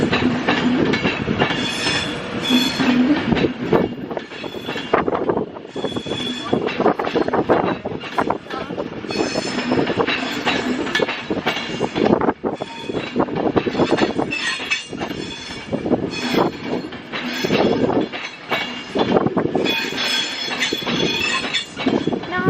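Class 390 train 390 016 arriving at Crewe station bound for Manchester Piccadilly from London Euston, rolling wheel noise with squeals and rail clatter, while someone talks intermittently over it.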